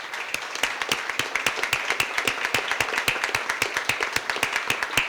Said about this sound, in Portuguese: Vamos dar mais uma salva de palmas para Jesus.